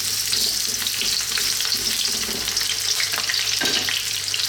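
Onions fry in hot oil in a wok with a steady, loud sizzle, accompanied by occasional stirring scrapes and clatter in the pan.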